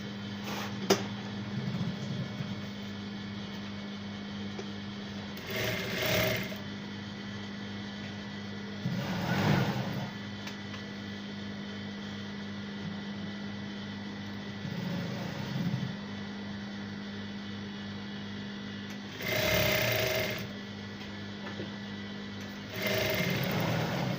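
A sewing machine stitches the fabric of a pair of short pants, whirring in several steady runs separated by short pauses, close and clear with no talking.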